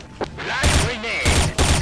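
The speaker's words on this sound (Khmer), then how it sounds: "Flash grenade." A flash grenade goes off during combat in the online shooter Attack Online. Loud bursts and booms cut in over continuous battle noise, with a voice speaking in the mix.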